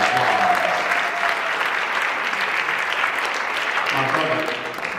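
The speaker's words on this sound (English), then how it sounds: "give Colin another round of applause" Audience applauding a singer at a Black History Month celebration, a dense, steady clatter of many hands that fades slightly near the end, with faint cheers and voices mixed in.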